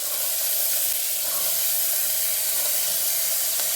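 Green peas sizzle and hiss steadily in a hot pan of oil while being fried for a batani sherwa, a constant close, even frying noise with no talking.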